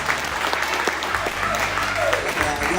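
Audience at an open mic night applauding steadily for a spoken-word performer, a dense patter of clapping throughout with a voice talking over it.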